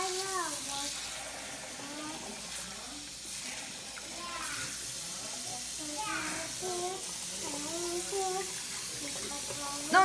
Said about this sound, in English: After you rinse it, you don't want to use too much water.